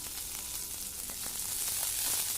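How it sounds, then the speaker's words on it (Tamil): Small onions sautéing with ginger and garlic in a pan for a goat fat fry, giving a steady, soft sizzle with a few faint stirring scrapes and no talking. "வெங்காயம் நல்லா வதங்கட்டும்"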